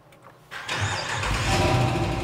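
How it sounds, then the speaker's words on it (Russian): A Jeep Grand Wagoneer engine cranks briefly, then catches and settles into a steady idle nearby. "Давайте запустим двигатель."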